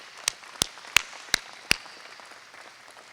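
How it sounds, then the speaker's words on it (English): Applause for medical professionals at a military change-of-command ceremony, with five sharp, evenly spaced loud claps standing out over a faint, soft patter of scattered clapping. "if we can just give them a round of applause"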